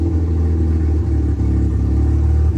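A Mazda RX8 with a Bridgeport-ported rotary engine and a manual conversion runs with a loud, steady, low, lumpy rumble and a slight rise in revs, heard close up with no talk.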